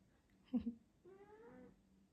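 A cat sitting in a small bowl makes a couple of short, soft vocal sounds, then one longer drawn-out meow, close by and quiet with no talking.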